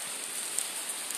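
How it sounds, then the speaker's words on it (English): Heavy rain falls outdoors at an event venue where a concert had been planned, a steady, even hiss with no voices and no pauses. "it's kind of raining like really,"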